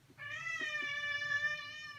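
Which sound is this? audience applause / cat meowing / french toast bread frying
cat meowing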